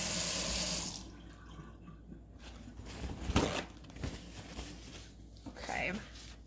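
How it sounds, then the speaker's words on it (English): A kitchen tap runs briefly as fingertips are rinsed under it, a soft hiss of water at the start followed by quiet handling and rustling sounds. "I'm going to rinse my fingertips off here."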